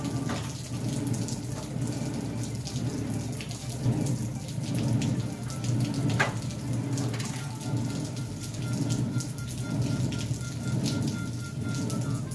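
Steady rain pours outdoors around a Green Mountain pellet smoker cooking competition pork ribs, a dense, continuous hiss with faint distant rumbles beneath and no talk over it.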